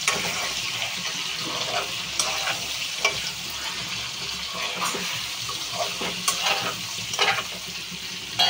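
Eggs and small shrimp fry in a pan with a steady crackling sizzle, broken by occasional scraping and stirring clicks, close and fairly loud with no voices.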